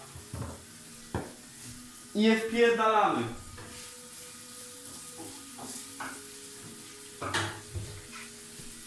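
Sizzling scrambled eggs frying in a pan with stirring and clatter, under a voice talking loudly in Polish, with a louder burst of sizzle midway as the heat is turned up.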